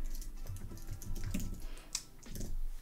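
Light, quick typing on a computer keyboard while writing in the Obsidian note app, with soft irregular key clicks close by throughout and no voices.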